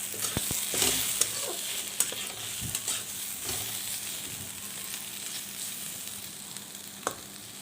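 Boiled taro stolons (kochur loti) fry in a pan with a moderate, steady sizzle broken by sharp spatula taps and stirring scrapes, and no voices are heard.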